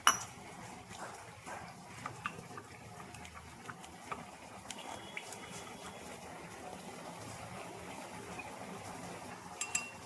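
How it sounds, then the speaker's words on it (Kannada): Two spoons of cornflour stirred with water in a bowl give faint, scattered clinks of a spoon against the bowl, with soft watery swishing in a quiet kitchen. "2 ಸ್ಪೂನ್ ಕಾರ್ನ್ಫ್ಲವರ್ ತೊಗೊಂಡಿದ್ವಲ್ಲ, ಅದನ್ನು ಚೆನ್ನಾಗಿ ನೀರು ಹಾಕಿ ಮಿಕ್ಸ್ ಮಾಡ್ಕೊಂಡ್ಬಿಡೋಣ."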